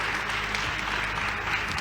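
A congregation at a pastors' gathering in a Kinshasa church bursts into sustained, dense applause, with steady clapping filling the space throughout without a break.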